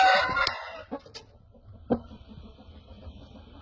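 An Indian rooster lets out a strong, close crow at the start, followed by a few short clucks and a sharp call from nearby chickens, with quiet farmyard background after.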